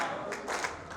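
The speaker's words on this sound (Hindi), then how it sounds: "ताली बजा दो ना" An audience at an awards event claps along in a short burst, steady rhythmic hand claps mixed with music, fairly loud and close.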